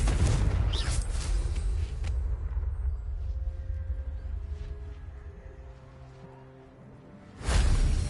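Confringo explosion spell in Hogwarts Legacy. A loud blast opens, a sustained rumbling tail slowly dies away under faint tonal effects, and a second heavy boom lands near the end.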